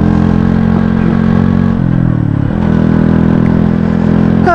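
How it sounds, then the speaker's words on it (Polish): A motorcycle engine idles loudly and steadily close by, its low throbbing hum shifting briefly in pitch partway through before settling back. "bo silnik jest odpalony"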